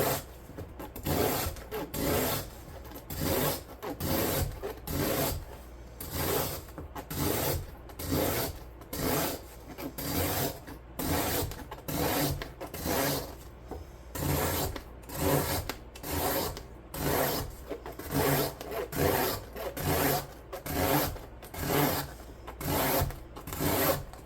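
A Ganzo knife with a 440C steel blade slices cardboard in repeated rhythmic strokes, a rasping scrape every second or so, close and fairly quiet, with no talking.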